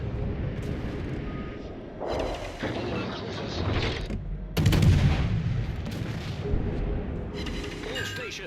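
Naval guns of the HMS Hector, a tier 8 cruiser in World of Warships Legends, fire in loud booming salvos with rumbling mechanical game noise between blasts. The heaviest salvo lands midway, and possible game voice lines sit underneath.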